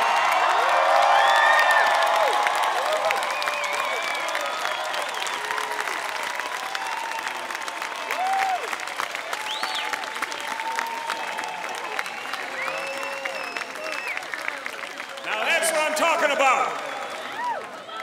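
A crowd of university graduates at a commencement ceremony bursts into loud applause and cheering, with whoops and shouts over sustained clapping that swells again near the end.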